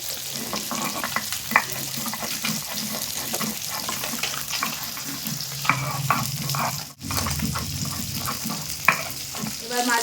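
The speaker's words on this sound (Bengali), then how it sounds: "মাছটা ভাজা হতে থাক" Continuous crackling sizzle of fish frying in hot oil, with occasional sharper pops and a few soft clinks.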